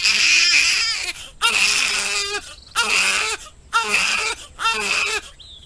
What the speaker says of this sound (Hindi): कमरे से एक बच्चे के रोने की आवाज आती है